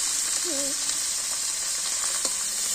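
Small puti fish frying in oil, a steady close hiss of sizzling fat that runs throughout, with a faint short voice-like tone early on.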